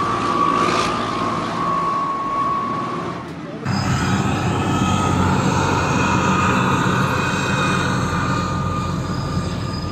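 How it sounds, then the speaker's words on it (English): A heavy engine drones steadily, with a loud mechanical rumble that steps up in intensity partway through and continues at a constant roar. "the sound of the engine this vehicle makes"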